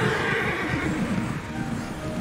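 A horse whinnies over a steady background hum, a short continuous neigh lasting a couple of seconds, from a unicorn mount in a video game.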